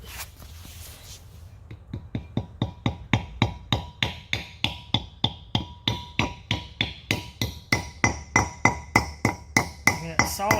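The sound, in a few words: small hammer tapping in a wheel bearing dust cover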